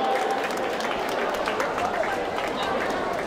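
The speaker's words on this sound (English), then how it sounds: "Please give a big round of applause for them." Sports day crowd applauding prize winners, a dense, steady wash of clapping from a large outdoor audience, loud and continuous throughout, with some crowd chatter mixed in.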